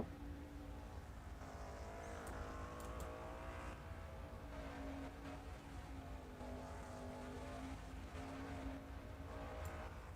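A race car in a sim racing game cruises through a victory lap at the Auto Club track, its engine a steady droning whine that rises and falls gently with speed, quiet and continuous without talk.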